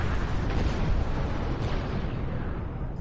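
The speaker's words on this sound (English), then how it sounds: "Explosions." Explosions in the space game Star Trek Online form a loud, continuous roaring blast with heavy low rumble that stays dense throughout.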